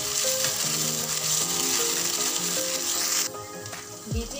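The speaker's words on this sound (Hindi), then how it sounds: "अब मैं इसमें लहसुन और मिर्ची का पेस्ट डालूंगी।" Garlic and chili paste sizzling and frying in a hot pan of browning onions for a potato and brinjal curry, a steady close crackling hiss that drops in level near the end, with some faint clinks.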